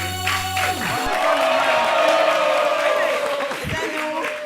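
Audience cheering and applause fill the room, a sustained roar of clapping and shouts that rises after a fading musical tone and holds steady, with voices mixed in.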